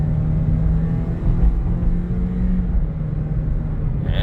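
Toyota Corolla SE with a CVT, heard from inside while accelerating from eco-mode cruising, a steady loud engine and road rumble that holds evenly throughout with no talk.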